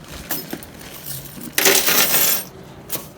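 Keys taken from a purse: a few bright metallic clinks and a brief jangling rattle, close and fairly quiet, with no talking.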